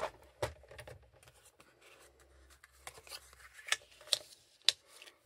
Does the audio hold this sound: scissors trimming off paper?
yes